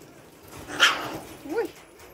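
A sable in a wildlife park makes two short, close, sharp growling vocalisations, one strong burst and a fainter rising one shortly after, over quiet background.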